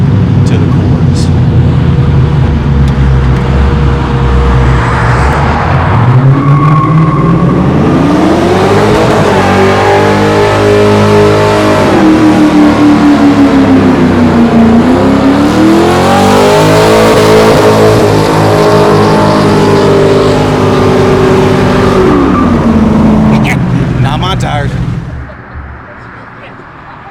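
A car's engine revs hard and holds high while the tires spin and wear down, rising and falling in long sweeping pulls over about twenty-five seconds, loud and close, with voices talking over it before it cuts off.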